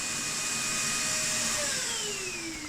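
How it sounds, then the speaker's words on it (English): A household vacuum cleaner runs steadily and loudly in a garage workshop area, a constant motor whine with a slowly falling pitch and no talk. "So using the vacuum there as and when"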